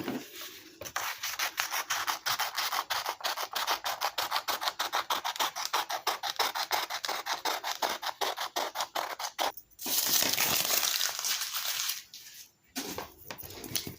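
Scissors cutting out a paper circle traced around a dessert plate, a close rhythmic series of rasping snips, a longer scraping rustle near the end.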